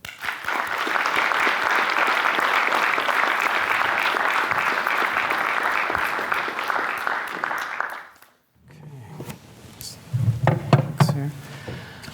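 A lecture audience at a UBC constitutional law event gives steady, dense applause welcoming a justice. The clapping holds for about eight seconds, then stops abruptly, followed by a few knocks and a voice at the lectern.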